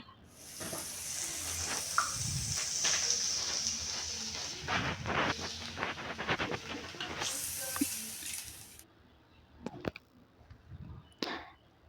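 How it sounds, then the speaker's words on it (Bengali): Carrots frying in a pan, a loud continuous sizzle and hiss with scraping stirs that cuts off sharply, followed by a few scattered clinks and taps. "গাজরটা দিয়ে এখানে ভেজে নেওয়া হচ্ছে"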